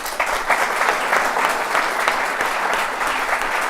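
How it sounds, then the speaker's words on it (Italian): Students in a crowded hall giving a final round of applause, a thick, sustained wash of clapping at steady loudness throughout, with no voices rising above it. "vi chiedo di farvi sentire un'ultima volta con un applauso"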